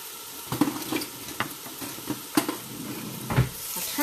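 Pieces of turkey dressing fry in a pan with a soft steady sizzle, broken by occasional clinks and scrapes of stirring close by.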